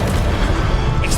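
A dense, rumbling Confringo blasting-spell explosion in Hogwarts Legacy, loud and sustained for just over a second.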